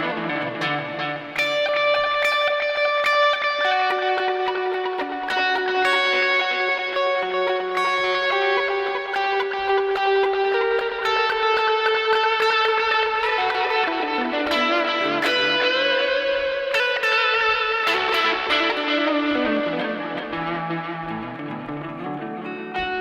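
Electric guitar played through a Zoom 70CDR+ delay and reverb on a worship pedalboard, sustained chords and notes washing into long echoing trails, loud and dense throughout, with no talk.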